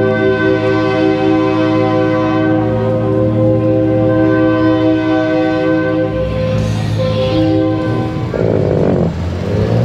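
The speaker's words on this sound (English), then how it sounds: "that's just a vehicle with a train horn on it" A loud, sustained multi-tone train horn fitted on a car blares steadily for nearly ten seconds, close by at a car show cruise, with traffic noise beneath it near the end.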